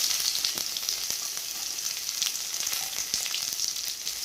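Fish head frying in oil with whole red chillies, cumin and garlic, giving a loud, dense, continuous sizzle up close with faint crackles throughout and no voices.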